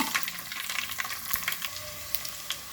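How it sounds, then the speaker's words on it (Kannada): Garlic drops into hot oil with mustard seeds for an ivy gourd stir-fry and sets off a soft, crackling sizzle with light popping, heard up close at low volume. "ಈಗ ಬೆಳ್ಳುಳ್ಳಿ ಹಾಕ್ಕೊಳ್ತಾ ಇದ್ದೇನೆ."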